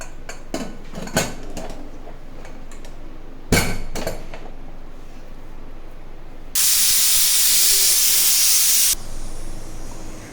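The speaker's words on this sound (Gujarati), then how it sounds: "હવે તેને મિક્સ કરીને આપણે 2 થી 3 વિસલ વગાડી લઈશું" A pressure cooker cooking a Gujarati potato, onion and fenugreek curry releases a loud, steady steam whistle for a couple of seconds, following earlier kitchen clinks and rattles of pots, then stops abruptly.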